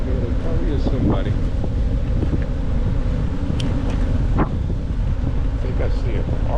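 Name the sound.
wind blowing over a golf course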